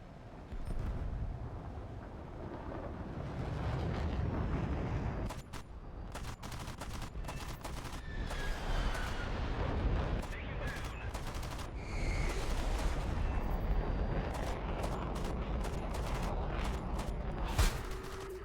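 Rapid bursts of aircraft cannon fire from an F3D jet in a combat video game, sustained and loud over a dense engine and battle roar, with sharp volleys stacking up for the whole stretch.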